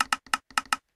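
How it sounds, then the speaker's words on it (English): A Minecraft dispenser clicks as it fires TNT from a multi-shot cannon: four to five sharp, loud, evenly spaced clicks in quick succession, then silence. "Listen for the clicking."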